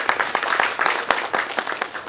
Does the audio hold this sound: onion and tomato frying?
no